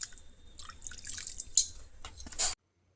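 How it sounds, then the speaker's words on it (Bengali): A little cooking oil poured into a pan for spinach with shrimp, a soft drip-like trickle with a few brief splashy spatters, quiet and close, ending abruptly before silence. "এখানে দিয়ে দিলাম সামান্য তেল,"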